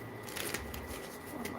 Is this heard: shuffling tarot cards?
yes